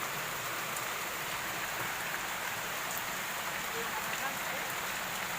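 Steady, dense rainfall hisses continuously outdoors, an even wash of raindrops with no pauses.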